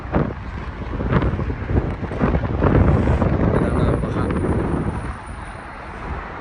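Strong wind outside a hotel in Abha, Saudi Arabia buffets the microphone in loud, rough gusts that swell and then ease toward the end.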